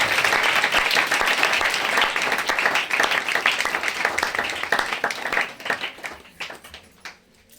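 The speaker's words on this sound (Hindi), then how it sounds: "तो जोरदार तालियों के साथ प्रभु के दास का स्वागत करें।" A congregation at a church service breaks into loud applause to welcome a preacher, with dense clapping that thins out and fades to scattered claps and near quiet by the end.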